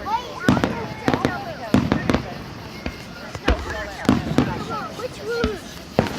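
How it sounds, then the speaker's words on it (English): Fireworks bursting over Maumelle in 2013: a series of sharp, booming pops at irregular intervals, some close together in pairs, with crackling between them and people talking and calling out throughout. "Shay, have you ever seen the fireworks in Maumelle?"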